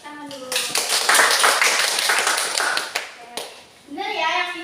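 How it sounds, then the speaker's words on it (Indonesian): A classroom of children claps for a student in a practice lesson on the human immune system, a burst of many hands lasting a few seconds before fading, with a teacher's voice before and after. "kita tepuk tangan dulu"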